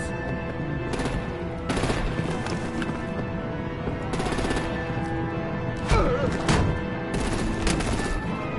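Rapid artillery gunfire aimed at vehicles in Telltale's Batman: The Enemy Within, coming as repeated loud automatic bursts over a droning engine-like background, with heavier impacts toward the end.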